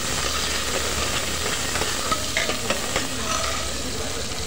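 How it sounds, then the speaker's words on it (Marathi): A large, finely chopped onion sautés in a pan for a dhemse vegetable dish, giving a steady hissing sizzle broken by occasional light stirring taps. "एक मोठा कांदा चिरून घेतलेला आहे बारीक, तो घालणार आहोत आणि परतवणार आहोत"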